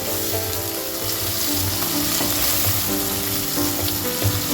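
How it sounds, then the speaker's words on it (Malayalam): Tomatoes sizzle in a hot pan for a home-style Kerala okra dish, a continuous loud frying hiss with occasional scraping stirs and small clatters of the utensil. "ഈ തക്കാളി ഒന്ന് വെന്ത് വരണം"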